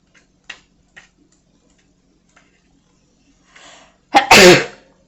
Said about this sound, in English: I'm known for making big sneezes